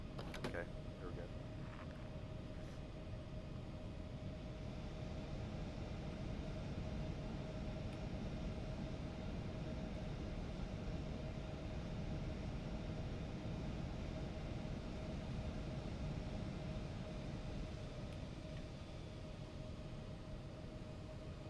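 An Embraer E175 takes off in the X-Plane 12 flight simulator with a steady, unbroken engine roar and a faint constant whine. A sharp knock marks the start, and the roar holds evenly throughout.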